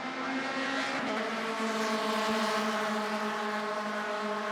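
Mazda MX-5 Cup race cars at Laguna Seca roar past in a loud, sustained engine note with steady harmonic whine, several cars blending together at close range, without any talk.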